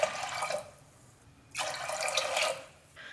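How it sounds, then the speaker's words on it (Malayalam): Water from a tap or jug pours into a pot of toor dal for a drumstick and raw mango curry, two steady splashing bursts separated by a pause, close and fairly loud, with no talking. "ഞാനിപ്പോൾ ഇതിലേക്ക് ഒരു 4 കപ്പ് വെള്ളം ഒഴിച്ചു കൊടുത്തിട്ടുണ്ട്"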